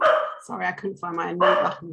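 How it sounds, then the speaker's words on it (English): A pet dog barks in the background of an online panel call, its barks sounding in bursts under and between a person's talking. "apologies if you can hear my dog barking"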